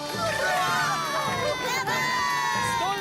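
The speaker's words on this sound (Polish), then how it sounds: "A teraz, moi drodzy, wielkie i huczne brawa dla naszej nowej mistrzyni!" A cartoon crowd cheers and shouts for a newly crowned female champion in Fireman Sam, with children's voices rising over a steady, loud clamour and bright tonal music running underneath throughout.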